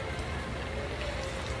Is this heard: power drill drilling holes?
no